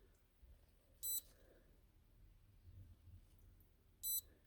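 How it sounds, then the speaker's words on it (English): A FlexSafe fingerprint cable lock gives two short, bright electronic beeps about three seconds apart over a quiet, faintly rumbling background. "So now I got that second beep"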